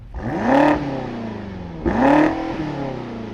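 A 2021 BMW X6M Competition heard from outside gives two sharp, close engine revs, each rising quickly to a loud roar and falling back to a rumbling idle, with no talk.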